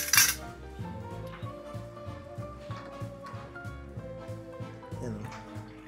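Oil stirred in a pan while bottled tuyo dried fish cooks, with soft metallic clinks and scraping over a low sizzle as someone talks.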